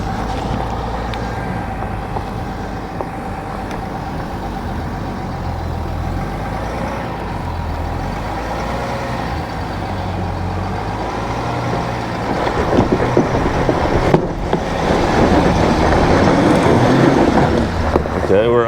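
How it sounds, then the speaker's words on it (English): 2024 Chevy Suburban 4x4 diesel engine laboring up an off-road hill in 4 low, a steady low rumbling drone that builds louder toward the end, with wind noise on the microphone. "Diesel sounds good, I will give it that."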